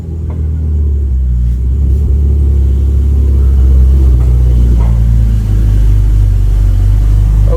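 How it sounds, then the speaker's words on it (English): A Ferrari F8 Spider pulls into a garage with its engine giving a loud, close, steady low rumble. The rumble swells slightly as the car creeps forward and keeps going throughout. "this is my Ferrari F8 Spider. All right. Let's pull this thing inside real quick."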